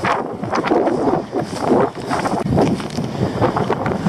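Strong wind gusts buffet the microphone at a rocky hilltop lookout in the Rogue's Roost wilderness near Terence Bay, Nova Scotia, producing a loud, continuous roaring rumble that swells and dips, with no speech.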